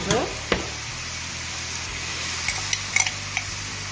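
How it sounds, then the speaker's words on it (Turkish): Onions with tomato paste sautéing in a pan, a steady soft sizzle with scraping stirs and a few light clinks of a utensil against the pan, close by. "Kavurmaya devam ediyoruz."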